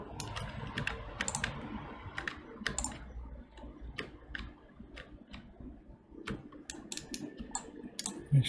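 Close, crisp computer keyboard taps and mouse clicks come in irregular bursts during UV mapping work on a game character, with spacebar presses mixed in; no voices.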